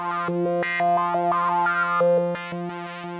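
A bright, resonant Sequential Pro 3 synthesizer patch with high filter resonance plays a quick sequenced melody of short notes over a steady low drone, with a sharp, ringing edge and no voices.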